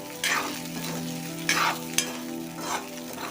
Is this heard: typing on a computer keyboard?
no